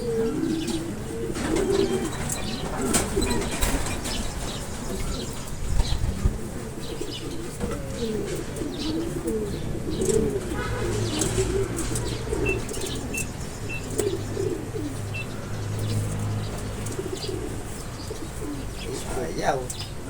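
Racing pigeons return to the loft during a race lap, with soft low cooing and wing flaps over steady outdoor background noise, while people talk nearby throughout.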